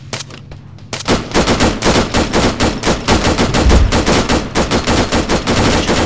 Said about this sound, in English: I hear gunshots from 300 somewhere around there.